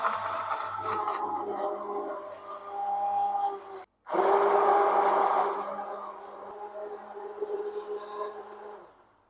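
An electric beater whirs loudly while blending a mango milkshake, cutting out briefly and then restarting with a strong motor hum before gradually easing off.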